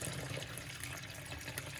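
Water pours from a fish bag into a small pond holding Japanese medaka rice fish, a brief close splashing gush.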